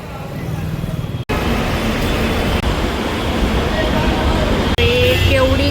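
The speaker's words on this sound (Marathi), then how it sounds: "खूप ट्रॅफिक आहे." Heavy road traffic rumbles on a busy roadside in the Konkan region near Dapoli, with cars, buses and trucks passing close by. The noise is loud and continuous, with horn-like tones near the end and voices mixed in.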